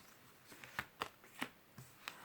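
Tarot cards being drawn and handled, a few soft, crisp card snaps and slides at irregular intervals, quiet and close over a faint background hiss.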